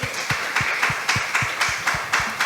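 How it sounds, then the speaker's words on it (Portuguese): Church congregation clapping in praise, a steady rhythmic beat of unison handclaps about four to five per second, close and moderately loud, with no talk. "Aplauda o Senhor"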